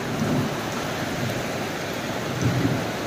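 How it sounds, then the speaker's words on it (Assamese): Thunder rumbles low and steady beneath continuous rain on a farmstead courtyard, with heavier swells near the start and end; no talking. "মেঘে খুব গাজিছে"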